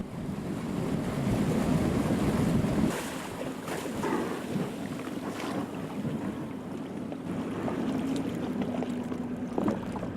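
A boat travels over open sea in icy northern waters. Waves wash and slap against the hull under strong, buffeting wind noise, with a low steady rumble throughout.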